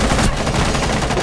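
Rapid, loud shotgun blasts from a Rainbow Six Siege match pound out in dense succession, close and harsh, with no voices over them.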